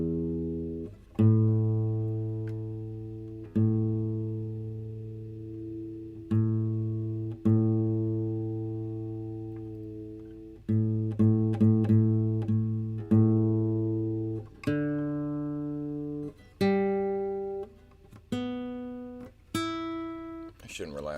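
An out-of-tune guitar is plucked string by string with pauses between, single and repeated notes ringing out and decaying as the player checks and adjusts the pitch.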